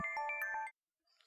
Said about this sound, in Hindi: मरियम सलमान का फोन है।